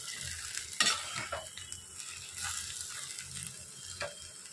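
Lote fish (Bombay duck) fries in a pan, giving a soft, steady sizzle with occasional clinks and stirring scrapes of a utensil, fairly quiet and with no talking.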